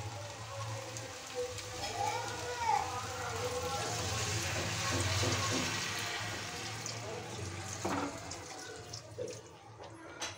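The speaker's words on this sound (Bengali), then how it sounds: "এখন দিয়ে দেব জল।" Water is poured into a pan of drumstick (moringa) curry, making a continuous splashing gush close by that fades toward the end, with a voice speaking over it.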